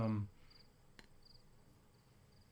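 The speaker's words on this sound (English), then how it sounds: "I don't know if you can hear the crickets." Crickets chirp faintly outdoors in short, evenly spaced trills over a quiet background, after a brief burst of voice at the very start.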